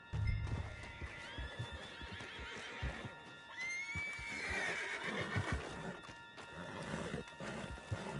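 A horse in Red Dead Redemption 2 whinnies loudly over the rhythmic clip-clop of galloping hooves, with no talk.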